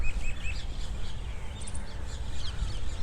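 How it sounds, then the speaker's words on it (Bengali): Birds chirp and call at the ruins of Feroz Shah Kotla, an old fort with an Ashoka pillar in Delhi, with several short tweets scattered over a low outdoor rumble, fairly faint and somewhat distant. "পাখির ডাক"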